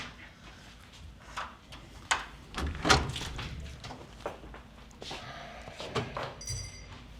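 An apartment door is opened after a doorbell rings, giving a cluster of knocks, clicks and a latch clatter at mid-distance with no talking.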